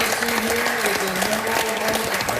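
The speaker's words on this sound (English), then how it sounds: "Doyle Brunson receiving a well-deserved round of applause from the entire room" A whole poker tournament room applauds Doyle Brunson after his elimination from the 2013 World Series of Poker main event in Las Vegas, dense sustained clapping with a faint voice carrying underneath.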